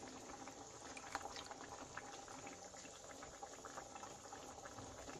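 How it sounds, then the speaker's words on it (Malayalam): Chicken curry with potatoes boils in a pot, a soft continuous bubbling and popping that stays faint and even throughout, with no voices. "ഇതിപ്പോൾ നല്ലോണം തിളച്ച് വരുന്നുണ്ട്."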